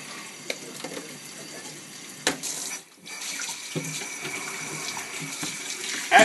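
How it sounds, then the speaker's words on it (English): Tap water runs steadily into a kitchen sink as a raw Thanksgiving turkey is rinsed, a continuous close hiss and splatter with small shifts and knocks as the bird is moved under the stream. "After you've removed everything on the inside, rinse the turkey out."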